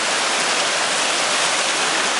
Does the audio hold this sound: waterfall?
yes